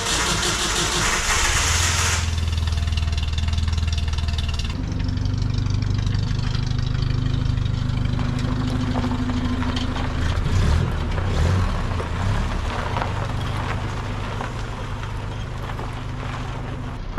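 Vehicle engine cranks and catches, then settles into a steady, loud idle as it warms up, with a loose unbolted hood rattling over the low running rumble.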